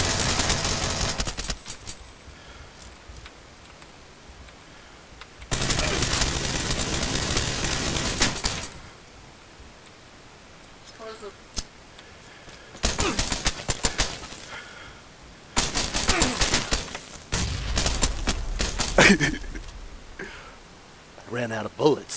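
Broadband gunfire bursts from a PUBG solo boat fight, a few long loud stretches separated by quieter gaps, with a player talking in between.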